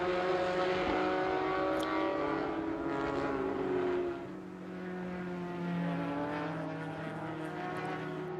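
A black number 27 race car passes at Sebring during the FARA Memorial 300 endurance race, a steady droning engine with rising and falling pitch as it goes by, moderately distant.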